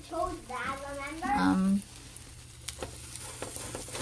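Wagyu beef patties fry in oil with a soft, steady sizzle and faint crackles, heard beneath a voice talking at the start and continuing alone afterward.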